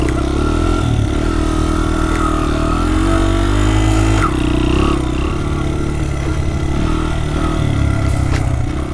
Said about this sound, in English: My second time on a dirt bike.